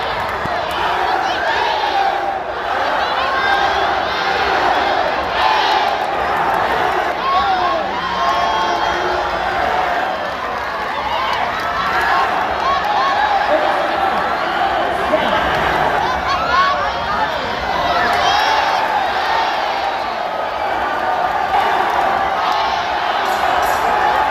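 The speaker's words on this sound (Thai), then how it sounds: "บรรยากาศข้างเวทีกองเชียร์มันมากเลยครับ" Crowd cheering beside the ring at Lumpinee boxing stadium, a dense, steady roar of voices with shouts and whoops rising through it, loud and continuous throughout, with chatter mixed in.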